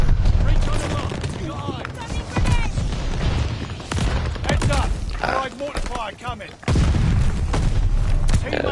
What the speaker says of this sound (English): it's my mortar fire